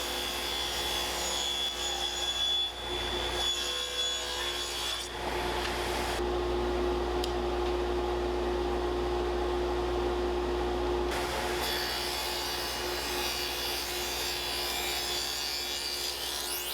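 A table saw cutting a dado in wood, the motor's steady whine broken by a stretch of louder, rougher cutting in the middle before settling back, near and without talk.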